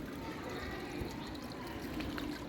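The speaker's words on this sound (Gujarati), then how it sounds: "હું પાણી પીવડાવું છું, તો મને થયું કે છોડવાને પણ સરસ મજાને આપણે શૂટ કરીને બતાવીએ" Water poured over garden plants from a filling container, a steady unbroken hiss of flowing water that stays at an even moderate level for the whole stretch.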